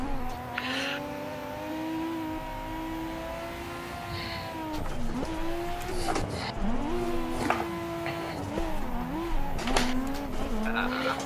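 Cars tandem drifting in the racing game Assetto Corsa, engines droning and revving at a steady pitch while tires squeal in repeated bursts, loud and continuous.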